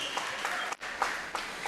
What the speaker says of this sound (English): a special thank you and another round of applause, please, for Betty Abana for coming onto our Vocal Fusion stage